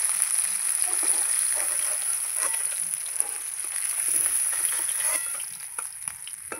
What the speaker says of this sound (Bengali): মাছ সব ভেজে নিয়েছি